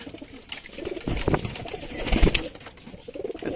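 Pigeons coo close by in repeated low, throaty bursts, with faint rustling between the calls.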